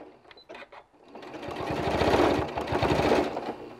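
A sewing machine stitches a back tack seam on fabric scraps for a small gift card case, a steady rapid mechanical whir that builds and holds close by, with a few soft clicks at the start.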